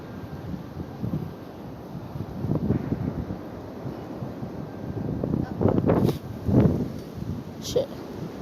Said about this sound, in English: It's getting really windy, Bella.